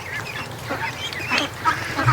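Ducks quack in rapid, chattering bursts outdoors in a cold yard, several birds calling close together over a light background hiss.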